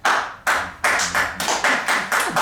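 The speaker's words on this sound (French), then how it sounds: "Vous pouvez vous applaudir." Theatre students in a drama workshop clap for themselves after a stage performance, a handful of distinct sharp claps spaced out unevenly rather than a full ovation.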